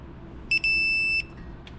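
A digital torque wrench torquing brake hardware on a 2017 Ford Fusion to 30 foot-pounds gives a short chirp and then a solid high electronic tone for just over half a second. It is close and clear over faint background noise, with no talk.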